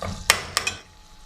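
Mutton for a degi-style aloo gosht being stir-fried in a pot, heard as a few sharp spoon scrapes against the metal over a low background hiss.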